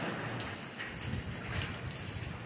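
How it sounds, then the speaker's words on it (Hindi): Heavy rain falls steadily in Soon Valley, a dense, constant hiss of drops on surfaces that stays loud and even throughout, with no one speaking. "और काफ़ी मोटी बारिश है।"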